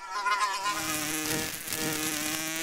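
A fly buzzes steadily and close by, its whining drone wavering slightly in pitch throughout, with no other sounds.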